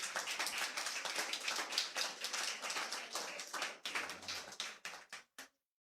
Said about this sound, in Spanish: Dale un aplauso a Dios por la vida de Mireya.